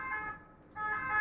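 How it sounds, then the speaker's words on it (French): Ambulance sirens wailing at a distance, two steady tonal swells with a brief dip between them, fairly faint and heard alone without talk. "Oh, des ambulances."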